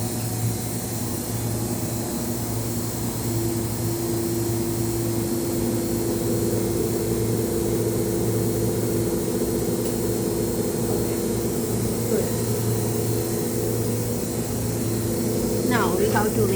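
Vacuum pump drawing down the chamber of a FESEM electron microscope, a steady loud hum with strong low tones and constant broadband hiss throughout, with a few faint clicks near the end.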